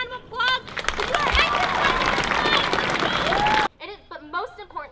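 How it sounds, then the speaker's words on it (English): A crowd bursts into loud, dense applause for a few seconds, mixed with cheers and whoops, then cuts off abruptly as voices continue speaking afterward. "Give yourself a round of applause."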